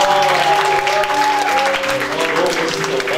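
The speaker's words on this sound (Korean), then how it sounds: "박수 주세요" An audience at a Monday chapel worship service applauds in a dense, even patter, while voices cheer and talk over the clapping throughout.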